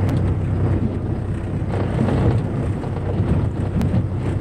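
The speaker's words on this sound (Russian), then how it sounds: "ветер усиливается" Steady, roaring wind over the Anadyr estuary in Chukotka buffets the microphone, a low broadband rumble that holds constant throughout with slight gusty swells.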